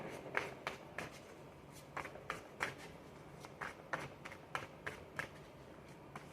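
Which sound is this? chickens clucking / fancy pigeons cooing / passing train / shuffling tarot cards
shuffling tarot cards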